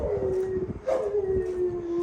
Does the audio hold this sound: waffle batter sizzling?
no